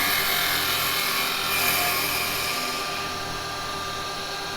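A woodturning lathe runs while a tool makes a shallow cut on the spinning wood, a loud steady broadband whirring rasp that holds for several seconds and eases slightly near the end, no voices.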